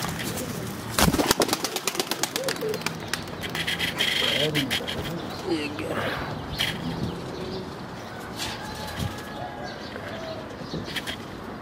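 Pigeons coo softly amid a flurry of flapping wings and rustling, with a person talking over the birds, at a one-day high-flying pigeon tournament in Rawalpindi.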